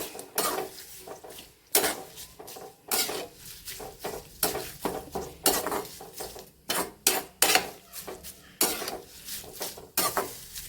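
Fried curry leaves scooped out of a pan of hot oil while making oil-pickled mango, heard as repeated metal scraping and clinks of a spoon against the pan, loud and close with no talk.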